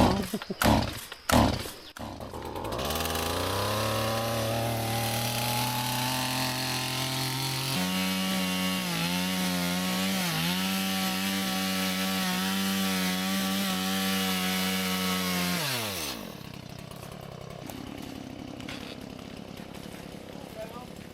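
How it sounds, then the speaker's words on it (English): A chainsaw runs steadily at high revs for several seconds, biting into wood with a rough, buzzing roar, then cuts out; brief clunks precede it. "When in doubt, grab the other chainsaw."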